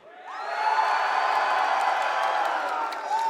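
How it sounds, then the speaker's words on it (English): A large arena crowd at an esports finals cheers for team SSG, a sustained roar of shouting and whooping that swells quickly and holds steady for several seconds. "So I want to hear a cheer on which team you're behind most."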